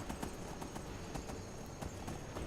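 Horse hooves clip-clop in the Skyrim video game, a quiet, regular beat of sharp hoof strikes heard alone over a soft background hum.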